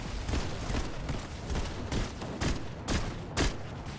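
Rapid gunfire from the video game Fortnite rattles in dense, overlapping volleys across the whole stretch, with louder bursts punching through near the end.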